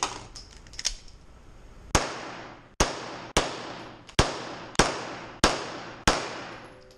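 Gunshots during a practical shooting match stage run at OKTS Interncup 2018, about seven sharp, loud reports roughly half a second to a second apart, each ringing off briefly, after fainter clicks and handling sounds.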